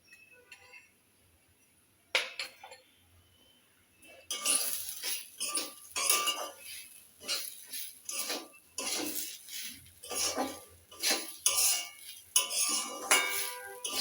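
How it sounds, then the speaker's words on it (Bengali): A spoon clinks and scrapes against a pan as turmeric, chilli and salt are stirred in, the metallic knocks coming in quick irregular bursts after a quiet start. "ভালোভাবে নাড়াচাড়া করে নেব।"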